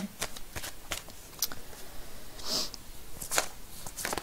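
Tarot cards are shuffled by hand at close range, giving a quiet, repeated run of crisp riffling and flicking bursts at an irregular rhythm.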